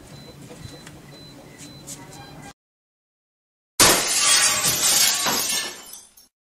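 Window glass shattering from a thrown stone: after a quiet background and a brief silence, a sudden loud crash of breaking glass rings and scatters for about two seconds before cutting off.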